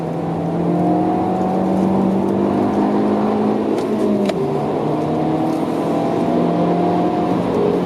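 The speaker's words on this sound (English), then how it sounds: "There's an Audi R8 passing again there on the left." A car engine drones loudly at steady high revs on the Nordschleife as an Audi R8 passes alongside, with the engine pitch sliding down in the middle.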